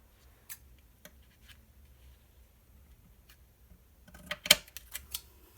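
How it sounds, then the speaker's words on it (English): Scissors snip a paper border sticker in a quiet room, making a few faint, spaced cuts that grow into a quick cluster of sharper snips near the end. "I want to make sure I get just enough. I don't want to cut too much off."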